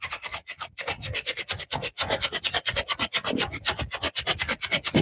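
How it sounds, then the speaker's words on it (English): Wooden utensils sanded by hand, a close rhythmic rasping of quick back-and-forth strokes that repeat steadily with no talking. "I am sanding utensils that should have been done 2 months ago."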